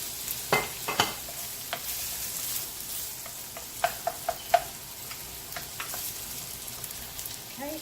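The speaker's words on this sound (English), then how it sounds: "I'm going to add some avocado oil. That's going to fry a little bit." Food frying in avocado oil in a pan for an Italian-style tilapia dish, a steady soft sizzle throughout with a few sharp clicks and taps of stirring, no one speaking.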